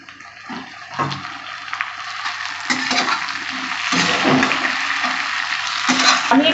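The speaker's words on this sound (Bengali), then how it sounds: "এবার আমি টমেটোটা দিয়ে দেব।" Chopped tomatoes land in a pan of browned, fried onions for a rohu fish curry with elephant foot yam, and a broad, steady sizzle builds and grows louder, with intermittent kitchen clatter and no talking.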